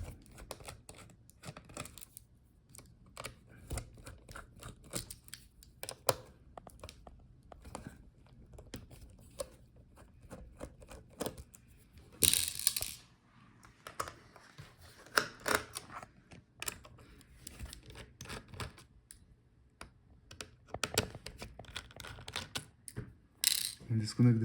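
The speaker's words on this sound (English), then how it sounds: "So take out all the screws for the heatsink." Small screws being taken out of the heatsink of an HP ZBook Power G9 laptop, faint close clicks, scrapes and light metallic taps scattered over a quiet background, with no talking.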